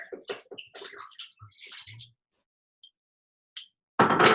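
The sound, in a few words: cold water poured over chicken frame for bone broth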